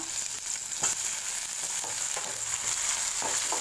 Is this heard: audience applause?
no